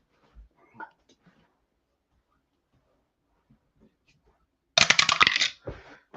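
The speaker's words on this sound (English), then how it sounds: "we drop the dice and make this an official game" Dice dropped onto a tabletop for an APBA baseball board game, a few faint taps early on and then a sharp, bright clatter as they tumble and settle, with quiet pauses around it.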